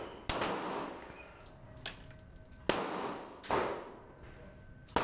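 Hi-Point JCP .40 pistol fired outdoors, several sharp loud shots spaced irregularly, each followed by a short echoing decay.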